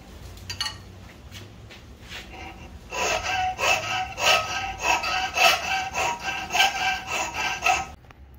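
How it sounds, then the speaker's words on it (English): A hand file rasps steadily across a metal part of a lever-locking folding knife, a run of rhythmic back-and-forth strokes, close and fairly loud, with no talking. "Just a little bit more filing."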